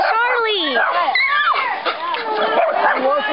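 Dogs at a car wash yip, whine and bark close by in a continuous, excited stream of high, sliding cries, with voices mixed in.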